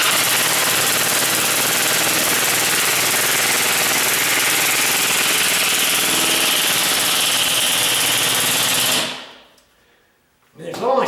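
An impact drill drives a screw into a door frame, a loud continuous high-pitched whirring buzz lasting about nine seconds before cutting off, followed by brief faint knocking.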